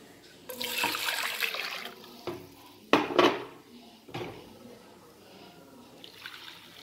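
Hot water splashes and pours into a metal pot in a few bursts while cooking egg biryani, with clinks of cookware between pours, close by.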